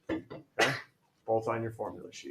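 Someone in a classroom lets out a single sharp sneeze, a short loud burst set between stretches of a teacher's speech during a unit review.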